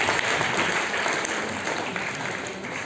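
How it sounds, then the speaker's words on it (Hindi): An audience at an Urdu gathering applauds, a dense, steady patter of clapping that fades slightly over the short burst, with no talk. "आप लोगों की तालियों की गूंज"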